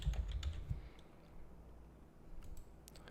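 Fingers tap on a computer keyboard in a quick burst of close, light clicks, followed by a few scattered keystrokes, with no talking.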